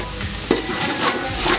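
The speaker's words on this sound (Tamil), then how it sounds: "வெங்காயம் நல்லா வதங்கிருச்சு." Onions, both small shallots and large onions, sautéing in a pan for country chicken dum biryani; close, steady sizzling with soft stirring scrapes, no voices.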